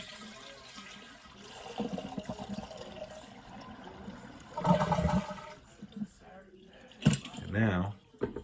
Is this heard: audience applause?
no